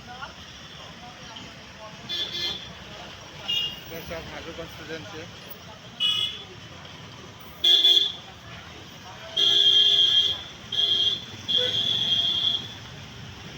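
Traffic at Damdama bus stand in Hazu constituency, with a steady roadside rumble, several short car and bus horn toots and a few longer honks, while someone speaks over it.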